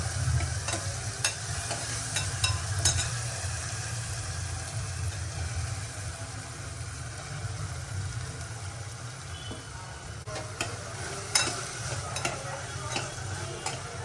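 Tomato and chili cooking in a pan as they are stirred, a steady soft sizzle with intermittent scraping clicks of the spoon over a low background hum.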